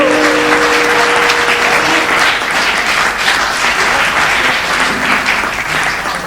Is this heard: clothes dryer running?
no